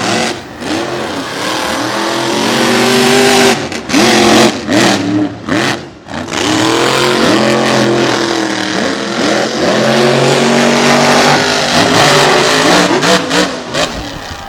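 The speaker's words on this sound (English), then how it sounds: "So these are two very evenly matched trucks as we get ready to go to war here in the final round" Two evenly matched race trucks, Overboard and Raisin Kane, one a big Chevy, roar off the line in a final-round drag race at a Tennessee/Georgia state line track, engines loud and revving continuously with brief dips between shifts.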